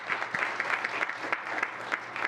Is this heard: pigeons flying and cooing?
no